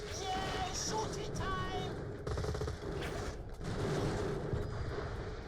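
Gunfire in Borderlands: The Pre-Sequel: continuous busy combat, with rapid shots and mechanical clatter running steadily under excited talking voices.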